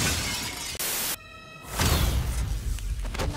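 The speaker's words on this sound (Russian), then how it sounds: "ты хочешь сказать, что там стенки сделаны из обычного хрупкого стекла?" Fragile glass walls shatter in a loud crash of breaking glass with a whoosh, followed by a rumbling burst of debris, in a dubbed animated scene.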